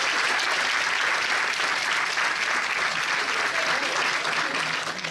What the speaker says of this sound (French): et on peut l'applaudir, il est drôle, bravo mon pote